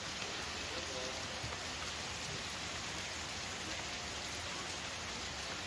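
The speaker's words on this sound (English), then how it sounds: "A little bit of rain action." Steady rain pours at a resort, a dense, even hiss of drops on surfaces that stays constant and fairly loud throughout with no breaks or voices.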